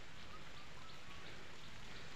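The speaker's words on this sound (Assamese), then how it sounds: "আজি ৰাতিপুৱাৰ বাবে বৰষুণ দি আছে" Morning rain falls outdoors near a hillside temple in Assam, a steady, faint hiss of drops that holds evenly throughout, with no voices.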